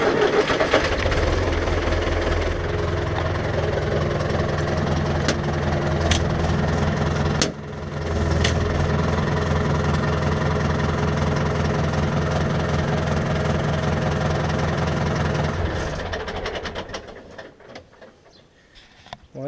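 A tractor engine cranks and catches, then idles steadily and loudly at close range with a deep, even rumble, before dying away toward the end; no one speaks.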